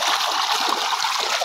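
Strong-pressure water gushing out of a pipe into a reservoir tank, a steady dense splashing roar with no pauses, close and loud.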